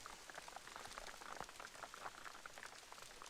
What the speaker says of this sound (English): The rain's just starting to hit now.